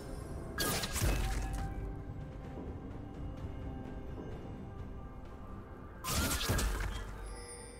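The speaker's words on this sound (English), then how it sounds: "Blue team's turret has been destroyed." A League of Legends turret being destroyed, two loud crashing, shattering impacts several seconds apart, each a burst of smashing debris that fades out, with quieter game ambience between them.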